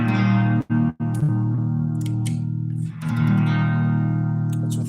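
Guitar with a bare piezo pickup wired straight to the jack, with no chorus, reverb or preamp, rings out in sustained strummed chords with a bright, slightly harsh tone, briefly cut off twice early on before ringing on.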